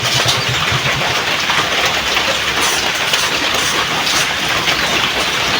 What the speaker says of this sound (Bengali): বৃষ্টি আর কমবে না এক সপ্তাহ।